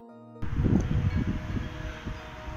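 Gusty wind blows outdoors beside a bypass road, starting abruptly as a steady, rushing roar that buffets the microphone, with no one speaking.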